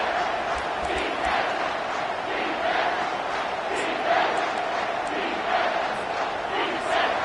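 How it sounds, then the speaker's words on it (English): A home stadium crowd at a Tennessee at Texas football game roaring on third down, a sustained loud roar that pulses and surges in waves. "Decibels rising as the crowd gets behind this defense on 3rd down."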